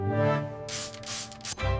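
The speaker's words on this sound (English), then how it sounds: "Spray, spray, spray, spray" Window cleaner sprayed from a trigger bottle onto a window in a few quick hissing bursts over a low steady hum, with no talk.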